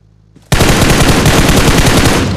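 Rapid automatic gunfire from a mobile shooter game played on a Redmi 10 starts abruptly after a short quiet moment, then runs loud and continuous to the end.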